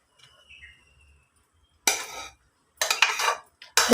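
A spoon stirs and mixes sweet chakkera pongali in a metal cooking pot, giving three close bursts of scraping and clinking separated by short silences.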